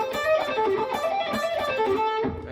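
Electric guitar plays two quick rock licks with bent, slippery notes, moderately quiet and fairly even in level, with no talking.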